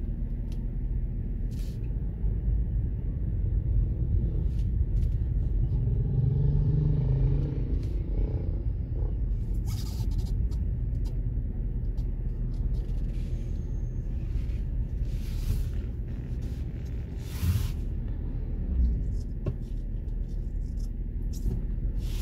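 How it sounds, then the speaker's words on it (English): Road traffic near Serekunda, The Gambia, with a continuous low rumble of vehicle engines, scattered clatter and occasional hissing or brake sounds, heard from close by with no talking. "as I'm getting closer to Serekunda, you would see that the traffic will be halting"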